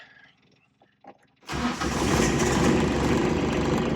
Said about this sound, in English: we'll go ahead and fire her up, see how she starts